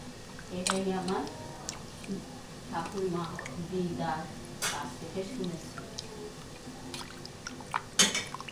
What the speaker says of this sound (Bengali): ভালো করে আমরা জাস্ট একটু ধুয়ে নিচ্ছি